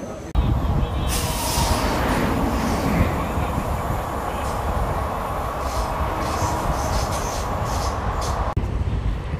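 The Palnadu Super Fast Express, heard from onboard, runs through a station without stopping, a loud, continuous rushing rumble of wheels and carriage noise with brief hiss-like bursts, with speech faintly underneath.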